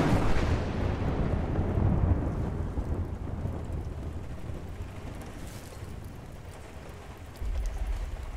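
Heavy rolling thunder over a dense rainstorm in the Battlefield Bad Company 2 Upriver level, a loud sustained rumble that slowly fades under steady rain hiss, then swells again near the end.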